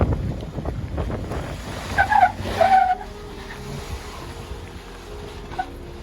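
A Jeep climbing rocks on the Hole in the Rock OHV trail: a low engine rumble with tire scrabbling and skids swelling briefly, under steady wind buffeting the microphone.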